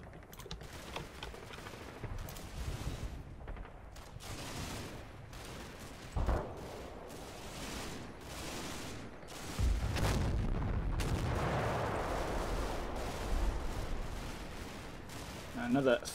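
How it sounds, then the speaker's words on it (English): A Panther tank fires a missed shot in the Combat Mission: Battle for Normandy wargame, heard among scattered gunfire with sharp reports and a heavier sustained rumble, while someone talks intermittently and keyboard tapping is heard. "Another fail shot by the Panther there"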